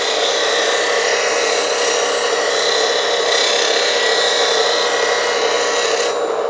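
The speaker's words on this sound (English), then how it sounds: "This is a CBN wheel, 180 grit. One side, then the other." A tool edge being sharpened on a 180-grit CBN grinder wheel in a woodturning workshop: a continuous loud, even grinding hiss with a steady motor drone, unbroken and close throughout.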